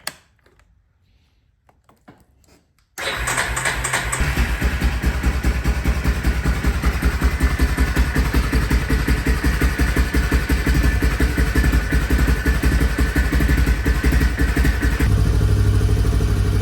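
A Yamaha Big Bear ATV engine starts after a quiet moment and runs at a steady, loud idle with an even ticking rhythm for the rest of the stretch.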